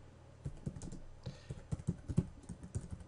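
Typing a command on a computer keyboard: a quick, close sequence of crisp key taps with uneven rhythm and a few heavier strokes, without any talk.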